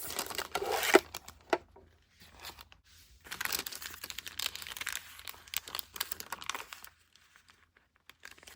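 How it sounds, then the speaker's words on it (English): A page from an antique book is trimmed, giving quiet crinkling, rustling and cutting sounds in short bursts with gaps of near silence. "it's a bit too long, so I'm gonna trim"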